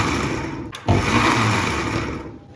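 A kitchen mixer grinder coarsely grinds soaked lentils without water for masala vada, a loud continuous whirring drone with a brief cut-out and restart, run in short bursts.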